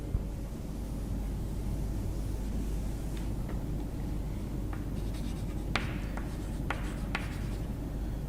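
A teacher writes a physics or chemistry question on a board during a lecture, producing soft scratchy strokes and short taps over a steady rushing background hiss, with no speech.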